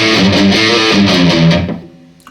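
Heavily distorted electric guitar chugging a riff, a tight repeating pattern of palm-muted notes and bends played loud and close, cutting off into a ringing decay at the end.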